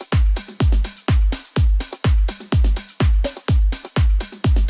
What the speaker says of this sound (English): This is the drums I'm working with, so they sound like this.